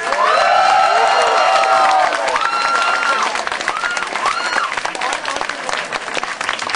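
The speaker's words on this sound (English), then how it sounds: "Let's give John Vega a big round of applause" Loud applause from an audience with scattered cheers and shouts, steady clapping that thins slightly toward the end.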